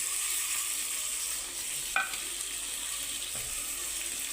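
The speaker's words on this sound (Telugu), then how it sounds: "వేసి దీన్ని కూడా బాగా ఫ్రై చేసుకుందామండి" Ground masala, tomato, onion and curry leaves frying in a pan while beetroot stir-fry is cooked, giving a steady soft hiss of sizzling with a couple of faint stirring clinks.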